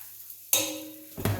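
Floured beef pieces for carbonades browning in a hot pan, a sizzle that bursts in suddenly and holds steady and close, then flares again briefly near the end.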